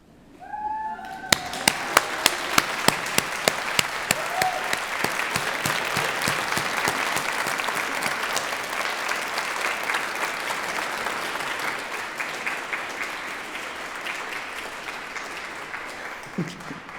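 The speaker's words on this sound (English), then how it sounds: "if you'd like to stand up and wave and clap for your family and friends, please" A large crowd of graduates at a graduation ceremony breaks into sustained, loud applause, dense clapping that continues steadily throughout.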